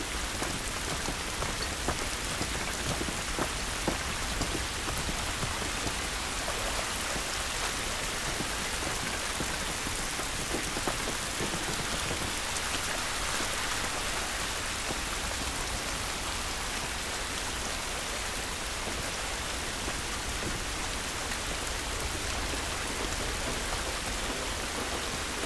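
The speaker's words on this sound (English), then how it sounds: "This rain ain't gonna do us any good." Steady, heavy rain falls outdoors in the video game The Last of Us Remastered on PS5. It is a dense, continuous wash of drops hitting surfaces that stays loud and even throughout, with no talking over it.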